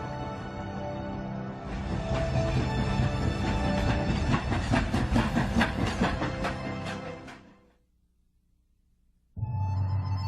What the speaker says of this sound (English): the well-worn rails of the steam train, which penetrates the thick silence of its desolate spaces